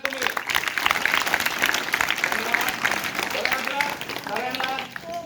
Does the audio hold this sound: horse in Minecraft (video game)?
no